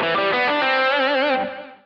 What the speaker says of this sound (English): Here I'm resolving the arpeggio to a nearby minor third.